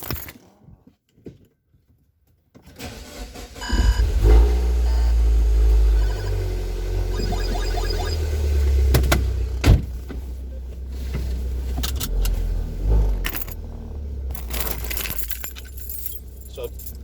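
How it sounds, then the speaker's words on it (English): A 2013 MINI John Cooper Works R55 with an N18 engine backs out of a garage. Keys jangle first, then the engine fires, and a low close rumble carries on with a few knocks and clicks. "So I'm just reversing out of my garage now"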